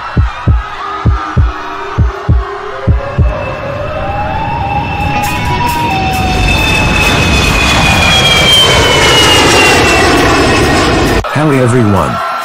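Airplane engine noise swelling into a loud, steady roar with rising and falling whining tones, preceded by a series of regular thumping pulses, with voices speaking over it.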